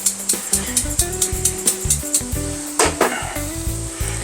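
Garlic and a pinch of spice sizzle and crackle in a hot pan as they are stirred, with steady frying hiss and rhythmic scrapes of the utensil against the pan, close and fairly loud.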